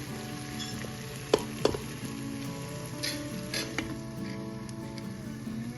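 Cubed potatoes are tipped into a pan of softened tomato masala and stirred, with a quiet sizzle and two sharp clicks of the spoon against the pan partway through.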